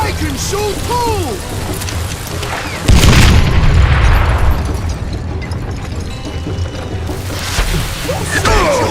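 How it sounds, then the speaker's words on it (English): A dynamite blast in a Red Dead game, a loud booming explosion that rumbles and fades over several seconds, with shouting voices and other game sounds around it. "Who said you could throw dynamite?"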